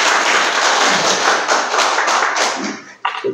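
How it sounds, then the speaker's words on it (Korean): A church congregation at a Sunday worship service applauds together in a dense, sustained wash of clapping that thins out near the end, with a brief thump and a faint voice at the close. "우리 미리 감사하다고 박수 한번 하겠습니다"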